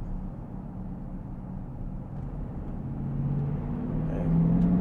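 A modified Audi Q7 4.2 TDI V8 fitted with V12 turbos on a stock fuel system, with a steady low engine rumble that builds as the car accelerates, growing louder toward the end.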